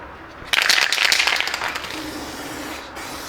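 Spray can laying a primer coat over a car part at home: a sudden hissing burst that starts abruptly, holds for over a second and tapers away, close and moderately loud.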